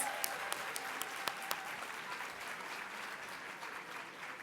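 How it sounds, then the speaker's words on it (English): At an awards dinner, the audience applauds after an ensemble's performance: a fairly faint, sustained ripple of many hands, with a few crisp individual claps early on. "Let's give them a round of applause."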